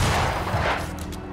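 A gunshot in Banishers: Ghosts of New Eden, a dense booming blast that fills the short moment and fades quickly, with no talk over it.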